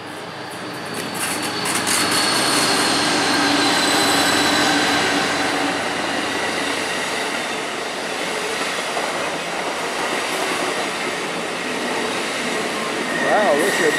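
Amtrak passenger train rolling past in the evening, a loud continuous rumble and rush of wheels on rail that slowly eases off, with a faint squeal at the end.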